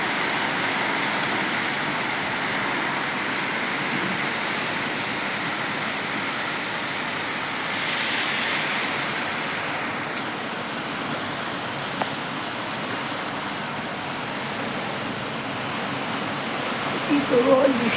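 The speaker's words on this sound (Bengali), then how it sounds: "কি প্রবল বৃষ্টি হচ্ছে" Heavy rain pours steadily outside a house during a garden storm, a dense, even hiss filling the whole stretch with only slight swells, close and constant.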